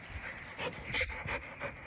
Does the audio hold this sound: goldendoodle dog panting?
yes